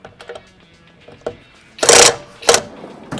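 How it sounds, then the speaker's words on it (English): A Cobalt 24V max brushless power tool with a chrome vanadium socket removes a trailer wheel nut: quiet clicks and taps lead into two loud, close bursts of whirring, one long and one short. "we're gonna be taking off the wheels with a cobalt brushless 24 volt max and a chrome vanadium 3/16"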